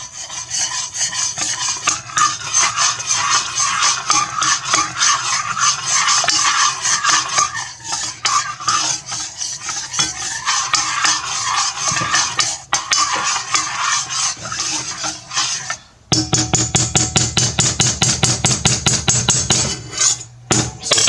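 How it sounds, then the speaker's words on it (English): An aerated spoon scrapes and stirs steadily around a pot of bechamel sauce, producing a continuous loud rasping rub against the metal, with a short pause and then quicker, more rhythmic strokes toward the end. "I'm just using a aerated spoon just to kind of keep a nice little flow up in here"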